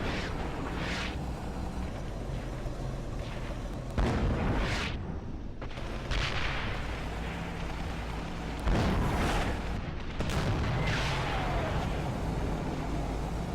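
Tank gunfire in the Graviteam World War II tank battle game, with armor rolling: several heavy booming shots come at irregular intervals over a constant engine and battlefield rumble, fairly distant and muffled.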